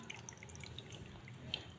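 Water trickling and dripping into a roasting tray holding a turkey in a roasting bag, a soft steady pour with light splashes throughout.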